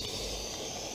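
Faint, steady hiss of steam from the cold cylinders of a coal-fired Roundhouse Lady Anne steam locomotive, an even, continuous rush lasting under a second.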